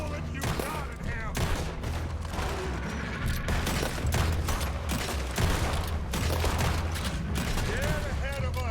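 Gunfire in the video game Red Dead Redemption 2, repeated shots and bursts cracking out over several seconds while voices talk throughout.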